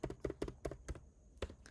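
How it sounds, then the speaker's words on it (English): Fingers tap a computer keyboard in quick, uneven bursts of close clicks with short pauses between, quiet and alone with no talking. "What am I typing?"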